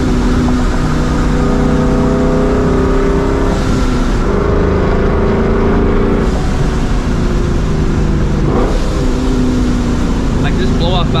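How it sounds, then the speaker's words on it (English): A supercharged New Edge Mustang GT, with a misfire fault, revs hard while its exhaust pops and backfires in sharp bursts over a steady engine drone, with talking over it. "I hope you guys can hear these backfires and pops, because it's pretty loud."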